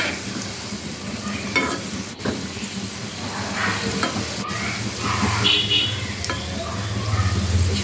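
Small rolled dough pieces cut into star-fruit shapes for kamranga luchi pitha fry in hot oil, a steady close bubbling sizzle with occasional stirring clinks and sharp ticks, no one speaking.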